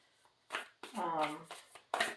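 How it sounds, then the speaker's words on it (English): A deck of cards being shuffled in several quick riffling bursts, close by, with a person talking over and between them. "And I really shuffle these cards."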